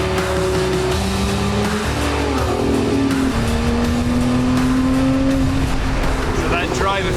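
A Lotus X-Hybrid sports car engine roars close by, its pitch climbing steadily as it accelerates through gears, loud and continuous with no break.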